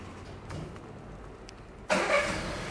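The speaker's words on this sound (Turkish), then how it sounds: "Çalıştırın arabayı." A 2016 Volkswagen Golf 7 sits quietly, then its engine cranks and catches abruptly about two-thirds of the way through and settles into a steady idle, close by and with no talking.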